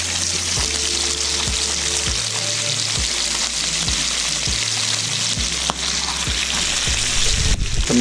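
Sliced fish fry in a pan in an outdoor cooking setting, a loud continuous sizzle and crackle lasting throughout with faint periodic stirring and tonal hum beneath, no talking.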